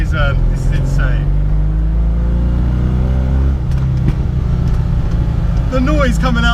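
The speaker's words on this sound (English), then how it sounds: "The noise coming out the back of this car are ridiculous." A 1972 Abarth 695 on the move gives a loud, low engine and exhaust drone, rising and falling under a voice talking over it.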